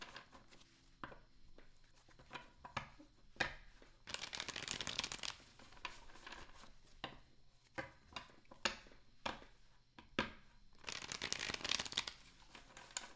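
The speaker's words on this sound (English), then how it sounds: "Last shuffle." Tarot cards shuffled by hand in a quiet room, with soft repeated riffling and slapping bursts in irregular clusters, close and faint, no voice.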